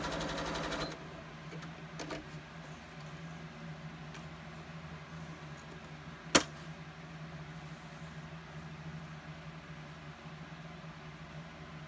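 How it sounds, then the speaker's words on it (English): A drop-in bobbin sewing machine stitches test fabric with a faint, steady mechanical whir, opening with a brief louder burst and broken by one sharp click midway. "We'll do another run on our test fabric here."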